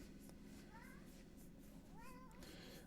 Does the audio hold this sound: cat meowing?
yes